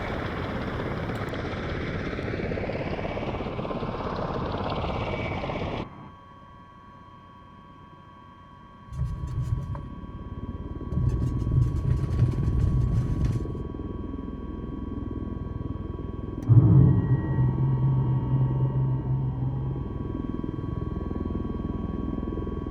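Simulated MV-22 Osprey tiltrotor hovering in Microsoft Flight Simulator 2020, a steady droning rotor and engine hum with a brighter whine at first, then a quieter low rumble that swells and pulses again in later stretches.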